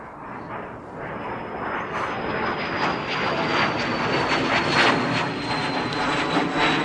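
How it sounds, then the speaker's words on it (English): A jet aircraft roars steadily throughout a show intro sound effect, a loud broad rushing engine noise with a thin high whine, sustained and unbroken, with no voices over it. "All right, fancy jet music."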